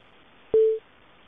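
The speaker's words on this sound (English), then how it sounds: "Every time a new participant joins the conference, you will hear an entrance tone." An Allworx phone system plays its conference call entrance tone, a single short clean beep lasting about a quarter second against a quiet line.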